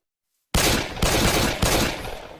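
Three sharp, loud pistol shots in Minecraft, evenly spaced after a brief silence, each followed by a short noisy decay.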